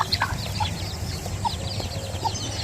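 Young chicks peeping in quick, repeated high chirps beside a mother hen's low clucks, close and lively, with no talking.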